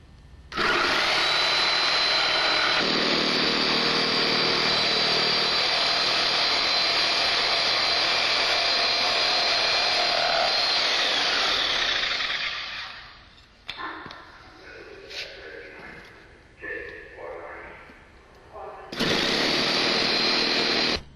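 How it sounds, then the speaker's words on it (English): A Sawzall reciprocating saw buzzes steadily and loudly at close range while cutting for about twelve seconds. Scattered handling clanks follow, then the saw revs up again briefly at the end. "So we're going to have to cut it as it sits. Pinch off, get sawzall."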